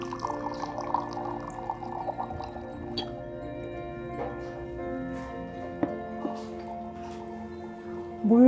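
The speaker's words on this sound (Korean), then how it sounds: "물소리가 너무 듣기 좋죠." Water pours into a teapot during a Korean tea ceremony, a soft trickle with dripping and ticking sounds that runs the whole time, close by and quiet, and a brief louder splash at the end.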